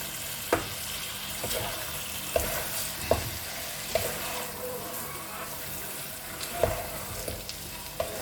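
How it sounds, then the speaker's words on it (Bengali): Mutton frying in a pan while being stirred, a steady sizzle broken by periodic sharp scrapes and knocks of the spoon against the pan, moderately loud and close. "মটনটা দিয়ে আমি খুব ভালো করে কষবো।"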